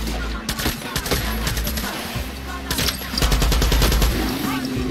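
Rapid bursts of gunfire from the video game Far Cry 6 crackle through a busy, loud battle mix, with a heavier burst near the end and a voice talking over the shooting.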